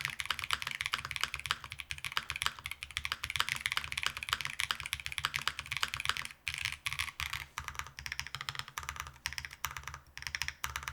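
Fast, clattery typing on a QK65 Mk3 mechanical keyboard, keys clicking densely and continuously up close, with a few brief pauses between bursts.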